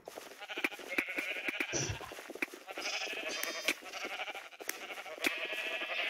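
Sheep in Minecraft bleat repeatedly against a busy background of game clicks and taps, with several loud, close bleats spread across the stretch.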